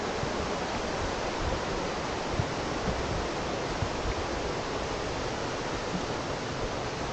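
Steady, dense roar of Minnehaha Falls, a cascading waterfall, heard close and continuous with no breaks and no voices over it.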